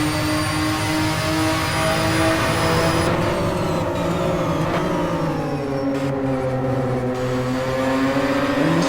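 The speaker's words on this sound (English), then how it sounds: "Trying to take in these engine sounds at the moment, all grouped together of course" Several racing car engines in the Simraceway racing game drone together in one continuous, loud, layered whine, with pitches gliding up and down as the cars accelerate and shift.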